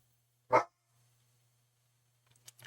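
A pet dog indoors lets out one sharp, loud bark at a passing bus, then after a pause a few fainter, quicker yips follow near the end over a low hum.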